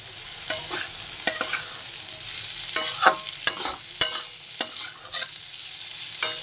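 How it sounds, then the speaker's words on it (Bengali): Cauliflower and potato pieces fry in a pan with a continuous soft sizzle, punctuated by several sharp scraping clicks of a spatula stirring them at irregular intervals. "এখানে ফুলকপি আলু ভাজা বসিয়ে দিয়েছি"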